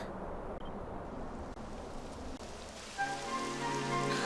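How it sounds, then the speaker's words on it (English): Soft, steady rain patters in the background in Dragon Quest, quiet and even, joined near the end by a brighter tonal layer like music. "It would have to go and start raining, wouldn't it?"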